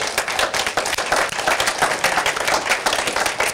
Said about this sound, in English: please give yourself a round of applause